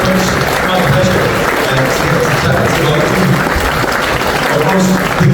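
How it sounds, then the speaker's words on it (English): A lunch audience at a Chamber President's event applauds two guests with a steady, full round of clapping that lasts throughout. "Please give our two guests a massive round of applause"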